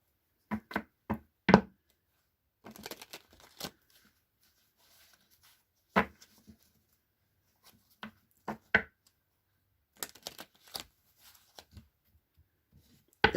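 Short bursts of tarot and oracle cards being riffled and tapped together, separated by quiet pauses, close and fairly soft.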